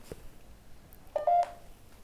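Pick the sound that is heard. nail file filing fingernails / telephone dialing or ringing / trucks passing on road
telephone dialing or ringing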